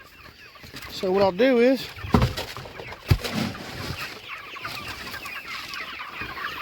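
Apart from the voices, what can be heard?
meat chickens clucking around feeder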